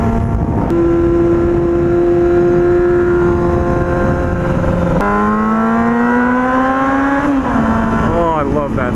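Revving of a motorcycle engine fitted with newly installed trials-bike parts: a loud, close, sustained drone that holds steady, then climbs sharply in pitch with rising revs before easing back down, with no talking over it.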